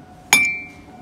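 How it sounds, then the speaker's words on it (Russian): A glass mug knocks against other mugs while holiday dishware is being browsed, giving one sharp, bright clink that rings out and fades over about half a second. "Сорян, чуть не разбила кружку"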